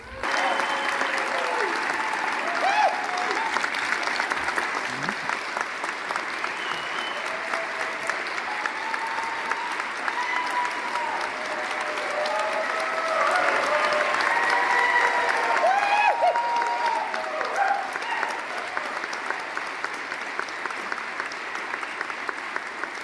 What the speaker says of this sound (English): I want to hear a round of applause for her.